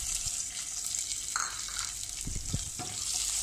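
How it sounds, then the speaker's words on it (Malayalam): Onion sautéing in a pan for ghee rice gives a soft, steady sizzle near at hand, broken by a few light knocks and scrapes of stirring partway through. "അപ്പോൾ നമുക്ക് ആ ഒരു സവാള ഇതിലേക്കിട്ട് നന്നായിട്ടൊന്ന് വഴറ്റിയെടുക്കാം"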